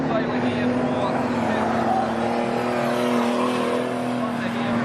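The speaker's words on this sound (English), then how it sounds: "The 82 car of Dylan Clark making its way around" Speedway race cars roar steadily around the track at Bolton's South Speedway in Tasman Thunder racing, a continuous loud engine drone with a sustained tone, heard under a commentator's voice.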